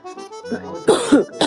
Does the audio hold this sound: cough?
yes